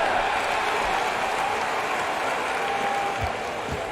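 A basketball crowd in a simulated Kentucky versus Ohio State showcase game cheers and applauds in a continuous wash of noise, with a few faint thumps late on.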